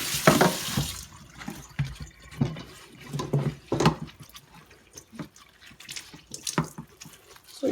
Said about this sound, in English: I'll go to the sink, and you just want to get this thing wet